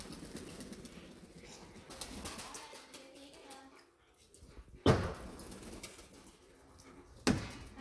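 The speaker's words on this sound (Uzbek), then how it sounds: "Mana kaptarlar cho'milishdi mana basenchasida." Pigeons after bathing in a small basin: soft low cooing and rustling, with two sharp bursts of wing flapping, nearby but fairly faint.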